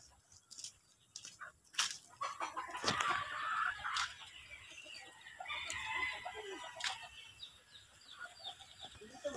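Chickens and chicks among trees in the woods, a rooster crowing nearby amid clucking and peeping, with scattered rustles and a fairly close, lively flock.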